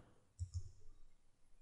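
Two quick computer mouse clicks, a right-click on a shared network folder in Windows, sound close and crisp against a quiet background, followed by faint room noise.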